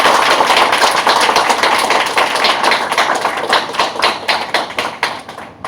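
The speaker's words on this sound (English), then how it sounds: "Please welcome him with a big hand of applause." Clapping from a conference audience welcoming a speaker at a videowall industry event, a fairly close, steady patter of hands that thins out toward the end.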